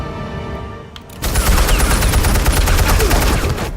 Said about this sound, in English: He shot his own people.